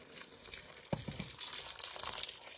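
Water hits a hot pan of tomato paste, pepper and tomatoes with a sudden splash, then a steady crackling sizzle continues, quiet and close.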